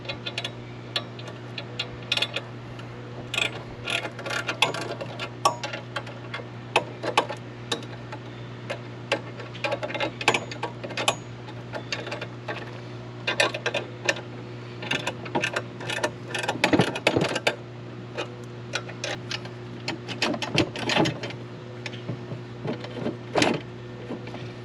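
U-bolts on a chainsaw mill being loosened with a wrench, producing a steady series of small metallic ticks and clicks over a low constant hum, fairly quiet and close.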